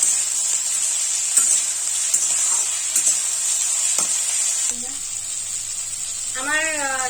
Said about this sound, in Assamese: জিকা আৰু আলুখিনি মই এনেকে ফ্ৰাই নোহোৱালৈকে লাহে লাহেকে লৰাই থাকিম।